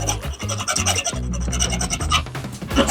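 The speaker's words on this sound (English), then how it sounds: "by the time I'm done filing this down" Hand file rasping back and forth on a model railroad rail for a Free-Mo module, close and steady with repeated strokes, no talking.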